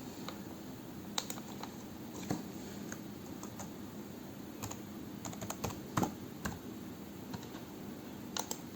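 A name typed on a computer keyboard while filling in an online account signup form, a quiet, close run of irregular key clicks with several sharper taps and short pauses, no speech.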